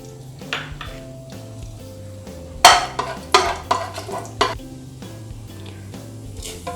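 Bay leaves, cinnamon and cloves sizzle in hot oil for ghee rice with coconut milk, with a spoon stirring and scraping the pan in several sharp clanks over a steady fry.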